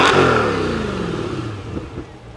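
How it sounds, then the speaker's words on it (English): A single deep engine rev from a 2024 Corvette E-Ray hybrid exhaust, rising then settling into a rumbling idle with some crackle, loud and close. "I'm gonna do a couple revs for you and let you listen to the exhaust."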